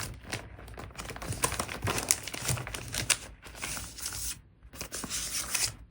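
Sticker sheets are handled and flipped while a celebration sticker is picked out for a journal page, making continuous close crinkling and rustling with small taps and brief pauses.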